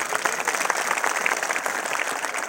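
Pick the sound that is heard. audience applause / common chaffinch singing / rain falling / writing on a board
audience applause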